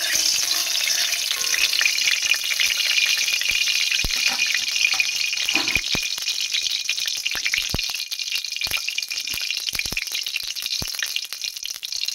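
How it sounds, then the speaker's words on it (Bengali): Steady, loud sizzle of hot oil frying in a heated wok (kadai) in a village kitchen, with a continuous crackle, scattered sharp pops and occasional rattling of the pan, no voices. "আমি এখন তেল দিয়ে দেব ভাজার জন্য"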